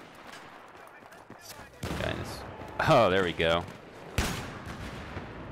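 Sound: gunfire in Battlefield 3 video game

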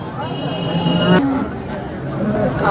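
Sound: cow at a cattle market

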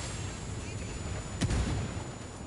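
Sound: mortar fire in video game Ghost Recon Wildlands

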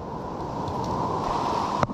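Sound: big waves breaking on large rocks

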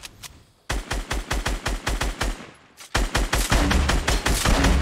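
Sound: gunshots in Fortnite video game

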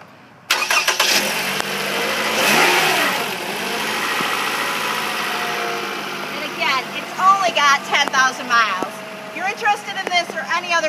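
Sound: 2013 Toyota RAV4 engine running

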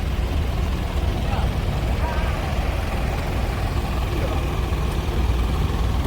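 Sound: tractor engine pulling a dump truck

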